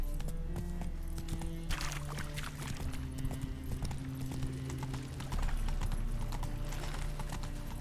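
Hooves of Roach, Geralt's horse in The Witcher 3, clip-clop steadily on the ground in a continuous trotting rhythm, close and clear over a low ambient game bed with no talking.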